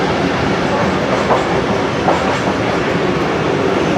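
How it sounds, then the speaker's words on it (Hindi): A Pak Business Express passenger train brakes as it approaches Landi station on the Rohri to Karachi line, giving a steady loud rumble of wheels and carriages with faint rhythmic clicks over the rails. "ब्रेक अप्लाई हो चुके हैं लांडी के लिए। ट्रेन अप्रोचिंग कर रही है लांडी"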